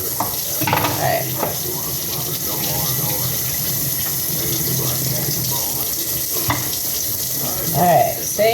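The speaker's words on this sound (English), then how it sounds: "Rinsing it with nice hot water and salt." Hot tap water runs continuously into a kitchen sink as pork tenderloin is rinsed with salt, a steady splashing stream with a few louder bursts as the meat moves under it.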